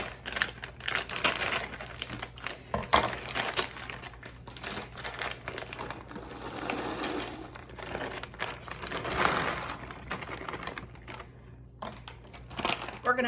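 Frozen corn pours from a crinkly plastic bag into freezer bags, giving a steady close rattle of kernels and crackling plastic that goes on and off for over ten seconds, with a low background hum.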